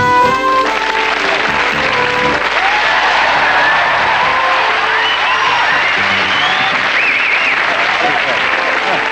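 A studio audience at a UK sketch show breaks into loud, sustained applause with some cheering and whoops, dense and continuous throughout, while a voice sounds faintly beneath at the start.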